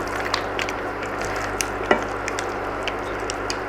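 Mussels and rice pilau being stirred together in a pan, a soft continuous scraping and sizzling texture with one brief sharper clink midway, steady and close with no talking.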